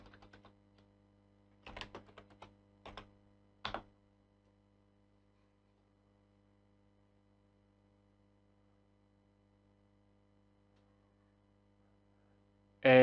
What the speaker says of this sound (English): I just go ahead and type npm run dev to start the local server